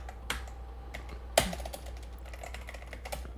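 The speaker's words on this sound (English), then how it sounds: "you guys can like hear me mashing the keyboard" Enter key mashed repeatedly on a computer keyboard, quick clicky taps at close range with one louder, sharper strike partway through, no talking.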